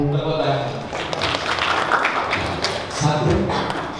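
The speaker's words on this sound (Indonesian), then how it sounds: "Tepuk tangan." Children clapping their hands during a Ramadan Quran memorization class, bursts of clapping layered over group chanting and talk.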